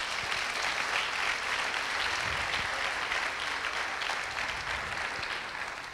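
A church congregation applauds during a sermon, sustained broad clapping from many hands throughout, loud and even before easing slightly at the end.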